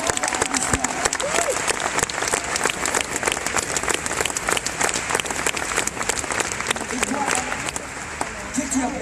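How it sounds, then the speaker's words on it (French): A large audience claps together in a hall at a Christian event in the Fribourg Forum, with dense, sustained applause that stays loud and steady throughout. "J'aimerais que la salle entière applaudisse l'initiative de cette jeune fille."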